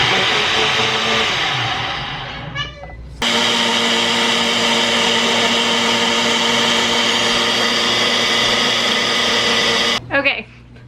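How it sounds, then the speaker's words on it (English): A kitchen blender whirs through carnivore-diet ingredients, a loud steady motor drone that slows briefly, then surges back at full speed for several seconds before cutting off abruptly, with short rattles at the stops. "I'll stick this in my blender and let my blender do all this work for me"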